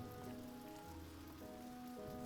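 Steady rain pattering over the terrain in the video game Stonehearth, an even, continuous hiss of drops that carries through the whole moment alongside sustained background game music tones, with no voices.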